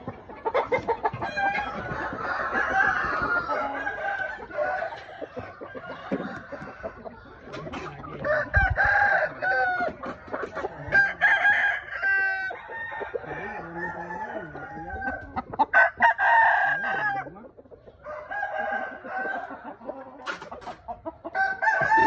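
Several Thai-American hens cluck and cackle close by in uneven, overlapping bursts, with an occasional rooster-like crow mixed in.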